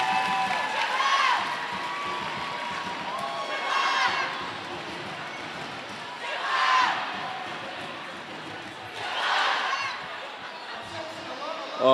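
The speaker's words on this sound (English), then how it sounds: "The crowd is going in full support." Roller derby crowd at a Japan versus Canada bout, cheering in three or four swelling waves over steady background murmur, with an announcer talking throughout.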